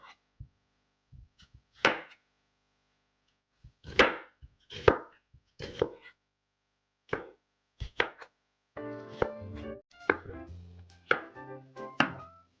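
A knife chops half a red onion on a board in a quiet kitchen: separate crisp thuds, a few single strokes and then quicker clusters, close and clear.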